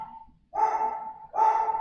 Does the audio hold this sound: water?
no